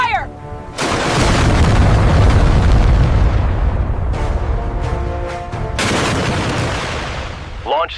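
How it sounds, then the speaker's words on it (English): A missile launches during a US-Japan RIMPAC live-fire drill: a sudden loud roaring blast that holds as a sustained rumble before tapering. Brief voices sound at the start and end. "Launch sequence successful."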